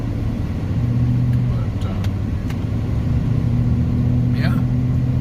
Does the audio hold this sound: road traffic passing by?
yes